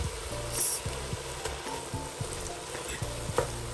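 Grated carrot halwa with ghee and cardamom powder being fried and stirred in a pan, giving a steady sizzle with intermittent scraping and stirring knocks throughout.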